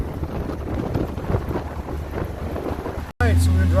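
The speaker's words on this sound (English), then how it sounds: "It's very breezy." Strong wind buffets the microphone in a steady, rumbling roar while a small Singer car is driven along, then cuts off abruptly into a brief steady hum.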